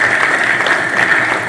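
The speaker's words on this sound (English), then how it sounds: "yeah, you can clap." A keynote audience at a U.S. ambassador's talk on Kenya breaks into dense, loud, continuous applause that stays steady throughout the clip.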